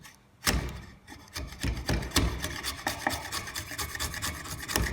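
Hand file rasping along the groove of a wooden spatula, a close series of irregular scraping strokes with rhythmic gritty bursts.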